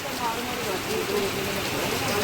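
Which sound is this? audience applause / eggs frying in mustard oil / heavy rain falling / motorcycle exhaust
heavy rain falling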